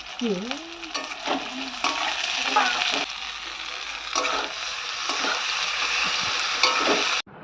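Mutton curry masala being fried and stirred for kosha, loud close sizzling with scraping spatula strokes against the pan, and a voice briefly heard early on before the frying continues alone.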